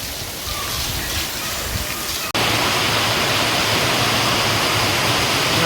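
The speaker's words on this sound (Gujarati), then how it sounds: "આવો કંઈક પડે છે અત્યારે વરસાદ" Heavy rain pounds corrugated metal roof sheets in a village, a dense, loud roar that suddenly grows even heavier partway through and stays steady, close and unbroken.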